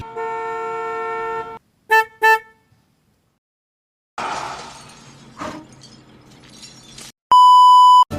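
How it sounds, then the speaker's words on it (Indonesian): A Hyundai Stargazer's stock horn sounds in a few short toots, with a long musical tone first and a steady beep at the end, plus some clatter in between. "suara klakson yang dihasilkan terdengar agak lucu"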